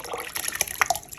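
Liquid poured into a jambalaya pot, a quiet splashy trickle with a few sharper drips and gurgles, close up and continuous for a second without talk.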